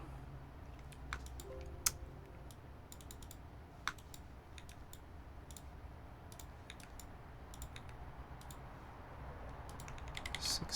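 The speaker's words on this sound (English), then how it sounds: "What keyboard to use? It sounds creamy." Typing on an Alps Frog mini mechanical keyboard: a faint, steady patter of soft keystrokes with a few sharper clicks standing out, heard alone and close in a quiet room.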